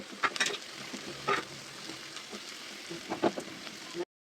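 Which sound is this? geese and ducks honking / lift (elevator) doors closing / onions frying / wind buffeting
onions frying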